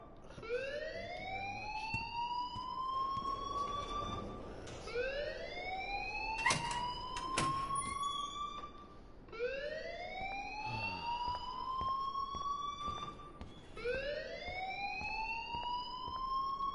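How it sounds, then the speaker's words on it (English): An alarm in the video game Life is Strange wails in four long rising sweeps that repeat steadily, loud and sustained, with a few sharp knocks between the sweeps. "please turn off that alarm since that's your job"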